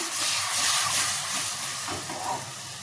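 Chopped tomatoes hitting a hot pan of cooking drumstick and potato pieces for a home-style curry, giving a steady, broad hiss and sizzle that stays fairly even throughout, with no talking.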